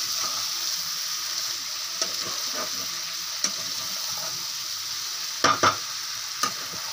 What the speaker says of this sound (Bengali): এবার এটাকে একটু কষে নেব, ভালো করে কষে নেব।